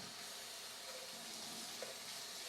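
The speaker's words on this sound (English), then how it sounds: "Now I'm going to put a little more water in here." Water is poured into a pot in a home kitchen while making pasta e fagioli, a faint, steady hiss and splash with no talk.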